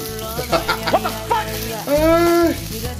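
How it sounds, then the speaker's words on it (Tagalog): Sizzling and crackling of dried fish frying in a pan, with a voice talking over it for most of the clip. "prito tayo ng tuyo"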